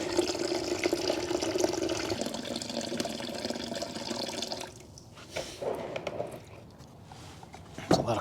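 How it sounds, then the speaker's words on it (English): Coolant drains and splashes from the engine of a frame-swapped Chevy COE truck project, a continuous pouring flow that thins into drips and trickles, fairly faint. "That's a lot of coolant."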